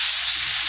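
Poa fish fries in a pan with a brief, loud, steady hiss of sizzling oil.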